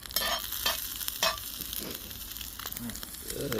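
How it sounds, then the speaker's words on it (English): A grilled cheese sandwich on sesame bread sizzles and crackles over a campfire, with steady frying hiss and occasional scrapes and pops, fairly close and moderately loud. "You're making grilled cheese on the fire."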